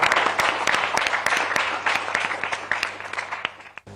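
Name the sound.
applause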